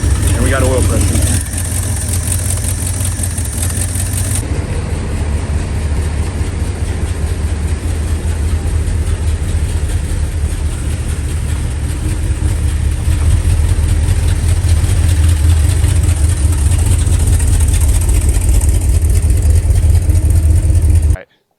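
Engine of a 1971 Ford F100 truck running steadily after an oil leak repair, with a loud, constant low rumble close by that continues throughout and cuts off at the end.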